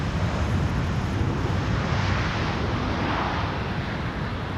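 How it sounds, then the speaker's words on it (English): Airliner landing at Amsterdam Schiphol on the Polderbaan runway with idle reverse thrust, a broad continuous jet roar, loud and steady throughout with no voices. "Idle reverse landing."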